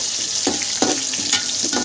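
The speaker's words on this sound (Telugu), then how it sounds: "ఇలా ఉల్లిపాయలు, పచ్చిమిరపకాయలు పోపులు వేగుతున్నప్పుడే" Onions, green chillies, cumin and mustard seeds sizzle steadily in hot oil, with a few soft stirring scrapes breaking through the constant close frying hiss.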